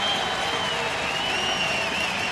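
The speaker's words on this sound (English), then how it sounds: "This crowd is really coming alive." A baseball stadium crowd at an Oakland A's home game against the Mariners, with a broad, steady roar of cheering and applause that sounds large and somewhat distant, sustained without a break.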